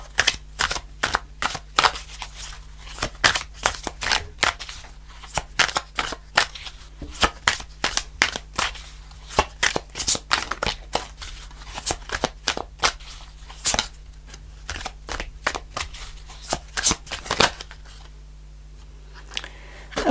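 Glossy, slippery tarot cards being shuffled by hand during a reading, a long run of quick crisp riffling clicks and slaps in irregular bursts, close and fairly quiet, with no talking.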